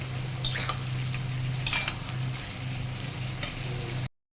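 Prawns fry in a pan after ginger garlic paste, a low steady sizzle with a humming undertone and a few sharp metal clinks and scrapes from stirring, close by, before cutting off abruptly.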